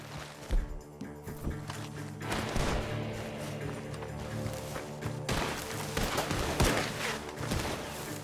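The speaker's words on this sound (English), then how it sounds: "The gunshots are coming from that barn!" Gunfire from a barn in the Red Dead Redemption 2 video game, several sharp shots and thuds scattered across a busy, moderately loud game soundscape with some rumble.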